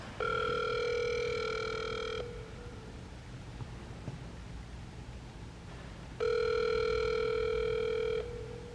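Outgoing telephone call ringing out: two long, steady electronic ring tones a few seconds apart, loud and clear with quiet between them.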